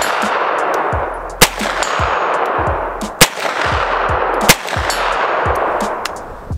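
A CZ Scorpion Evo 3 S1 firearm fired at distant targets: four loud, sharp, evenly spaced shots, each with a short metallic ring, over steady outdoor background noise.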